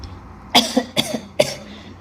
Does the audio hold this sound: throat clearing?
yes